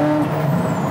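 Ferrari F40 pulling hard under power up a ramp, its engine a loud, steady close drone that holds through the short moment with no talking.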